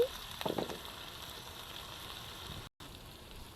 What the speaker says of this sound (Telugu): ఉల్లిపాయ పచ్చిమిర్చి కొంచెం బ్రౌన్ కలర్ వచ్చే వరకు ఫ్రై చేసుకోవాలి